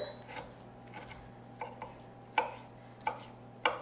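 A knife roughly chopping artichokes on a board for a Greek pasta salad gives sparse, uneven thuds and ticks, a handful of sharper strikes standing out near the end over a low steady kitchen hum.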